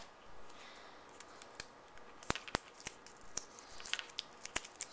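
Adhesive tape tearing in short, sharp rips while being pressed onto a homemade household slingshot, several quick crackling bursts close up with quiet handling between them.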